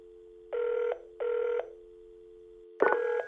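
A telephone rings before a voicemail greeting: two clean, evenly spaced electronic ring bursts over a constant low hum, then a third tone starts with a sharper click.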